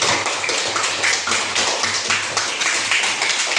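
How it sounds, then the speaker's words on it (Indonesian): Students in a classroom give a steady round of hand clapping, dense and continuous throughout, with brief louder bursts over a constant patter. "tepuk tangan untuk Eca."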